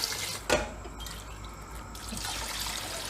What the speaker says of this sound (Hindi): अब जो यखनी तैयार की थी वो भी मैं इसमें शामिल कर दूँगी स्ट्रेन करके।